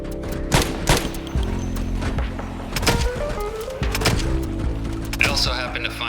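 Gunshots aimed at zombies in Project Zomboid pop at irregular intervals, a handful of sharp cracks over a steady low engine-like hum and game background.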